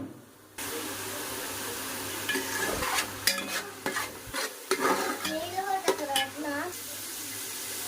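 Onion paste frying in a pan for a fish curry, stirred steadily with scrapes and clinks over a continuous sizzle; no one talks.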